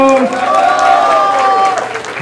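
Crowd at a Brazilian rap battle cheering and shouting in a steady, loud wash of voices, with a strong whooping voice rising above the noise throughout.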